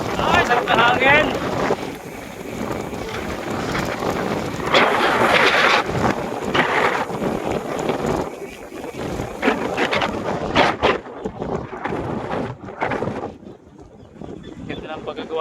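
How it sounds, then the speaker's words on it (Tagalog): Strong wind gusts across a newly built bridge on a bypass road heading to Cavite City, roaring and buffeting the microphone in heavy, uneven surges. Faint traffic noise sits underneath. "Ay, sarap na hangin!"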